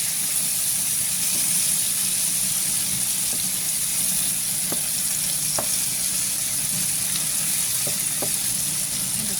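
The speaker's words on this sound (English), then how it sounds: "I'm going to turn the stove down and let this saute" Parsley sautéing on a turned-down stove for steak, a continuous even sizzle with a few faint ticks and pops scattered through it, no talk.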